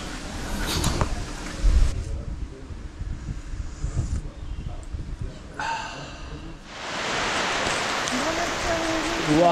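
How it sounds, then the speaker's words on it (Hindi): Rain sets in at a hill-station park in Matheran, Maharashtra, first as scattered noise under chatter, then as a steady broad hiss that fills the last few seconds. A dog barks near the start. "वापिस से बारिश हो रही है"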